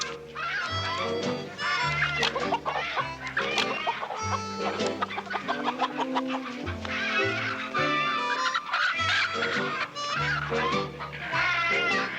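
Chickens cluck in a 1972 Western film scene, busy and repeated over a dense bed of other sound that carries on throughout.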